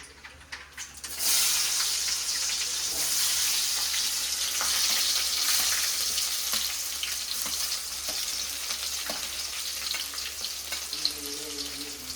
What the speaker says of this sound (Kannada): ಚಟಪಟ ಅಂತ ಇದೆ. ಎಣ್ಣೆ ಕಾದಿರೋದ್ರಿಂದ ಸ್ವಲ್ಪ ಈರುಳ್ಳಿನ ಹಾಕ್ತಿದ್ದೀನಿ.